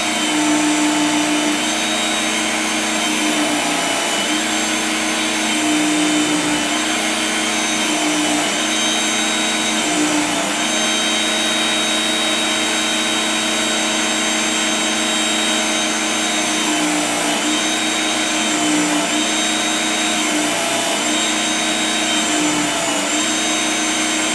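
A Work Sharp knife and tool sharpener honing a knife edge, a continuous loud motor whine and belt whir close by, with slight dips in pitch as the blade is drawn through in a few passes.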